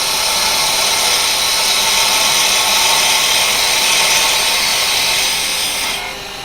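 A carbide tool cuts yew spinning on a wood lathe, a loud, steady hissing scrape that runs continuously before easing off slightly at the end.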